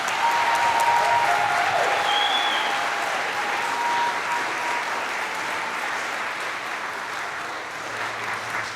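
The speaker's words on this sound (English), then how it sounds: "One more round of applause for these seniors" An audience at a school performance of Newsies Jr. gives the seniors a sustained round of applause, dense clapping that starts strong and slowly thins out over several seconds.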